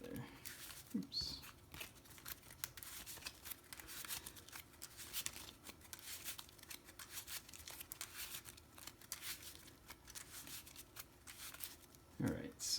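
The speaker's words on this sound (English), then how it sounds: "So let's shuffle up these lands so they're not all clumped up together." Magic: The Gathering land cards being shuffled by hand, a close, soft run of rapid riffling and sliding card sounds continuing steadily, with a brief bump or handling noise near the start and end.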